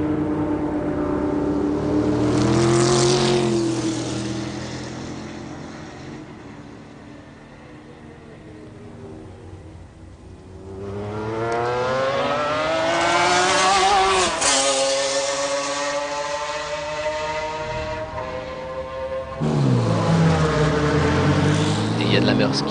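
McLaren F1 GTR race cars at Le Mans 1996 roar past in long rising and falling engine sweeps, with sharp gear changes through the first chicane, loud and passing close, under steady commentary.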